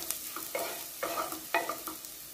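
Onion and garlic fry with asafoetida in a pan, a soft sizzle broken by four or five spoon scrapes at a steady pace, fairly quiet, with no one talking.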